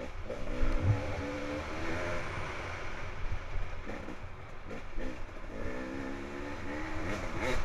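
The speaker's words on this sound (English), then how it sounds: "You hear that moan of a two-stroke." Two-stroke dirt bike engines moan and rev through a forest hare scramble race, the pitch rising and falling in repeated surges as bikes pass at moderate distance, no talking.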